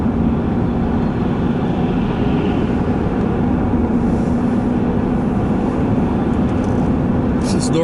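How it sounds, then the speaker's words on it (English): Morning commute on the road: a steady, loud rumble of tires and engine from inside a moving vehicle, with a faint hum and passing traffic. A voice speaks softly at times. "The traffic's not too bad so far."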